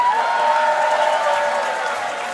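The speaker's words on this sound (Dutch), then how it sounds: "En weer geven een groot applaus." An audience at a children's carnival song festival applauds steadily, a broad wash of clapping from the crowd at moderate loudness, continuous through the short stretch.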